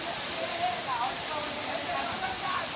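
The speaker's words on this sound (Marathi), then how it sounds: "मेन बाबा वॉटरफॉल असा वरनं पाणी पडता" Water pours from above at a waterfall in the Konkan region, a constant, steady rushing roar that fills the scene with no break.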